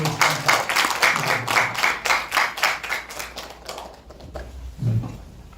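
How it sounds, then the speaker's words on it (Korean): A seated audience at a church pastoral forum gives a round of applause after a speaker finishes, steady clapping for about four seconds before fading out, followed by a brief spoken word. "다시 한 번의 박수로"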